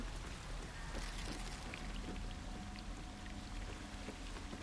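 Waterfall in the video game Baldur's Gate 3: a constant, dense rush of falling water, hissing and even throughout with no breaks, heard alone at a moderate level.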